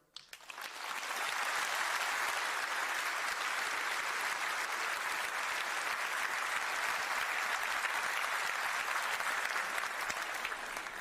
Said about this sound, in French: profitez-en ce soir pour applaudir vos mères.